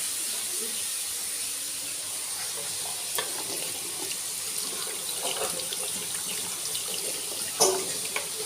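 A wooden spatula rinsed under a running kitchen tap, with a steady soft stream of water and a few clacks and knocks of the utensil against the sink.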